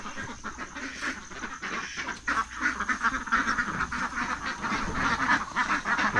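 Ducks being herded outdoors, a dense chorus of overlapping quacks from a flock, continuous and fairly loud with many birds calling at once.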